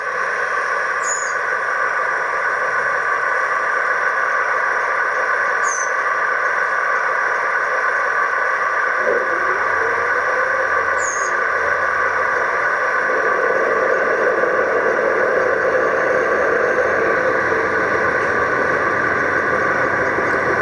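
A steady low engine rumble from a model train speaker plays continuously, with a deeper burbling layer joining partway through; faint chirps recur in the background.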